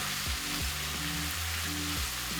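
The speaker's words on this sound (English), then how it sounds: "Add in the kimchi. Let that saute briefly and mix it together." Meat and kimchi saute in a hot pan, a dense, even hiss of frying with soft stirring beneath, steady and moderately quiet, no one speaking.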